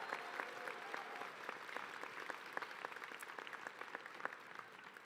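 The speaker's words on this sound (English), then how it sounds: "Please give them all a round of applause." The audience at a commencement ceremony for the class of 2022 applauds the graduates' families and supporters. The clapping is steady and fairly distant, made up of many separate sharp claps.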